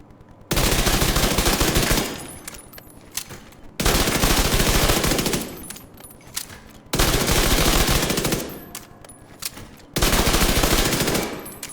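Submachine gun fire in The Division 2 video game, four loud sustained automatic bursts of about two seconds each, separated by short pauses with fading echoes.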